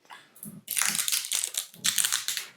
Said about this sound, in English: we're opening 2 new bottles, and so we wanted to make sure we did that live on camera